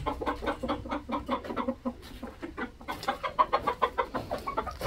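A hen clucks repeatedly in quick, uneven bursts, close by, with a few louder squawky notes mixed in.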